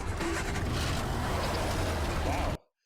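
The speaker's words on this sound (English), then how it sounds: "That is a strong engine there." A car engine roars loudly and steadily in a Harry Potter film scene, thick and close, then cuts off abruptly near the end.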